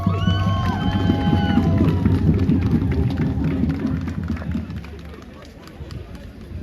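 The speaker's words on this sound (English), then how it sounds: "Give a big round of applause." A crowd at a pro-Palestine and Iran protest in Manchester cheers and applauds loudly outdoors. Sharp whistles sound at the start, and the roar slowly thins.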